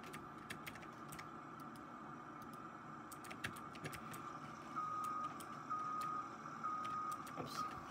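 Repeated reversing beeps from a skid steer in Farming Simulator 19, steady evenly spaced electronic tones over a constant engine rumble and scattered clicks.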